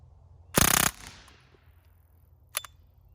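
A Ruger 10/22 converted to a machine gun fires a 10-round magazine in one loud, rapid burst of shots lasting about a third of a second. Reverberation follows, then a single sharp report.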